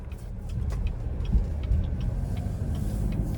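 A 2025 Cadillac XT6 Premium Luxury AWD with a V6 drives on the road, giving a steady, low rumble of engine and road noise from inside the cabin, with faint ticks above and no talking.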